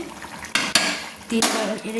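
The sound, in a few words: stirring mutton with water in a pot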